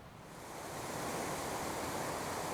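Steady broadband rush of a small river flowing along the Pacific Crest Trail near Mount Hood, a continuous wash that swells slightly at first and then holds loud and even, with no voices.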